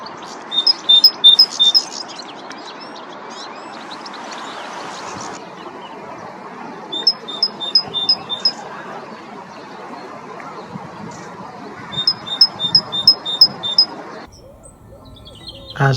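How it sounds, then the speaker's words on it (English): A Great Tit sings its sharp, repetitive two-note song in three bursts over woodland background noise, clear and fairly close. "To another Great Tit nearby, this repetitive song is a clear message."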